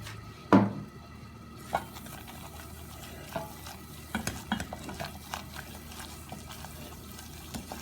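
A utensil stirs and scrapes flour browning in butter in a pan, giving soft intermittent scraping taps over a faint, steady sizzle, close and fairly quiet.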